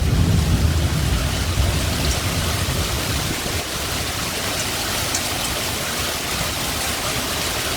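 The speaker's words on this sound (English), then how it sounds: "Close cloud to ground lightning in this storm." A Southeast Colorado thunderstorm drenches US Highway 50 in Swink, a loud unbroken roar of heavy rain with deep thunder rumbling through the opening seconds.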